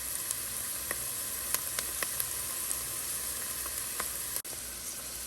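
Garlic and onion sautéing in a pan while cooking Thanksgiving green beans, an even, close hiss of frying broken by scattered light pops and a single knock near the end.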